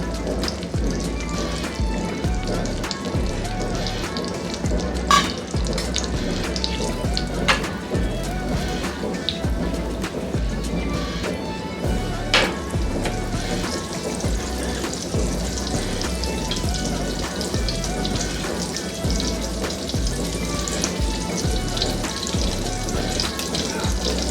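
Oil sizzles steadily in a pan while butter garlic eggs are being made, a continuous close crackle with small pops and no talk.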